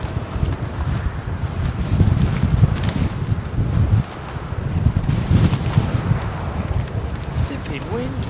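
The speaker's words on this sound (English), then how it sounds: "Flipping wind, man. What's going on? It's blowing straight up me sporran." Strong wind blows across the microphone at Heathrow Airport, a loud gusty low rumble that swells and eases throughout, with no other distinct sounds.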